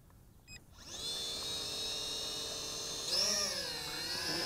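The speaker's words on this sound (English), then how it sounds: "So I'm going to hit the automatic takeoff land button." Motors of an SJRC S20W GPS camera drone spool up during automatic takeoff, a steady high-pitched buzzing whine that starts abruptly after a few faint beeps and holds loud and close, with a pitch shift midway.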